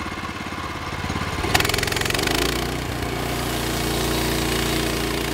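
A Briggs & Stratton Vanguard 18-horsepower V-twin engine with electric start runs steadily on a Norwood LumberMate LM29v2 portable sawmill, a loud continuous mechanical drone that gets busier and rises partway through, then settles into an even, sustained roar.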